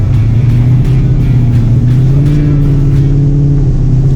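A Ford Mustang accelerates on a wet race track, its engine note a loud, steady droning hum that rises slightly, close and continuous throughout.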